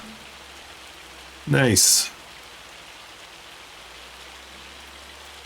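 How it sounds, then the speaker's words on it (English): Hail falls in the Farming Simulator video game as a constant hiss of pattering, and a man's brief spoken remark cuts in over it. "It's hailing."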